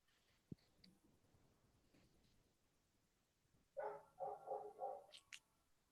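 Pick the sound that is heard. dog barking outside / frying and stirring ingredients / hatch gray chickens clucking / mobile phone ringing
dog barking outside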